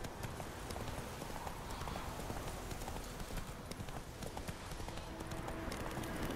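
A horse gallops in The Witcher 3, its hooves clip-clopping in a fast, steady rhythm close by over an ambient bed, with faint talk.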